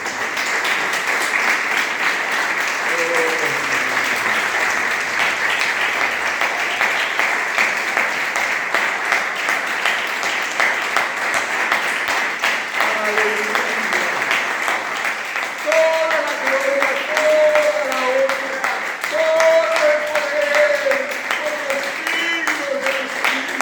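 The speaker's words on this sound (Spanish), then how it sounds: "¿Podemos dar un aplauso?" Sustained congregation applause at a church gathering, a dense wash of clapping lasting throughout with voices rising above it, someone speaking and calling out over the crowd.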